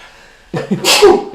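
A single loud, close sneeze bursts out after a moment of quiet background hum.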